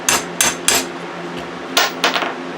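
Light hammer taps drive a pull cord socket back into a Remington Rustler RM2510 mower, three sharp close metallic knocks followed by a few more after a short pause.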